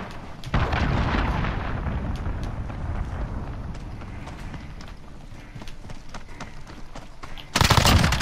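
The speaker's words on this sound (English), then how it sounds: "Enemy cruise missile, take cover!" Cruise missile strike in Call of Duty Modern Warfare, a heavy rumbling blast followed by a long rolling roar and scattered crackles, then another loud burst at the end, alone with no talk.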